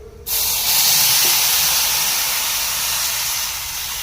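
Milk poured into hot vermicelli in a pan sets off a sudden loud sizzling hiss that starts abruptly, holds steady and fades slightly as it settles.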